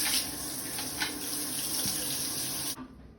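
Water streams steadily from a newly installed shower head, a continuous hissing spray of running water heard up close for almost three seconds before it abruptly stops.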